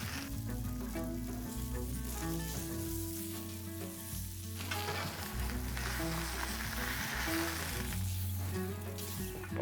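Triple tail fish sizzles in a hot pan set over charcoal, a continuous close frying hiss layered with tonal background music throughout.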